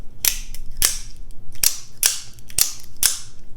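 Six sharp, loud metallic snaps close by as a Microtech Ultratech Tanto OTF knife blade deploys slowly, spaced roughly half a second apart, each a crisp click with a quick decay.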